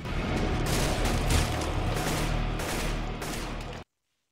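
Rapid gunfire from the video game CS:GO, a dense, loud stream of shots and bursts running steadily for a few seconds before cutting off abruptly.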